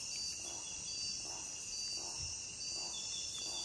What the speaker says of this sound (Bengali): দূরে কোথাও ঝিঝি পোকার ডাক উঠছে